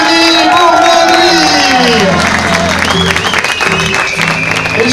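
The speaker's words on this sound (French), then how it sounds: "on va les applaudir, on va les accueillir. François Duval, Anthony" Spectators applaud and cheer for the winning crews on the podium of the Legend Boucles de Bastogne rally, while a loud amplified announcer's voice and music ring over the crowd.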